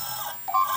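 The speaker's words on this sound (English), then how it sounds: "It'll give you an audible beep to let you know it's done." CNC probe touch plate in ChiliPeppr giving its completion signal: a short, faint electronic beep over light machine background noise.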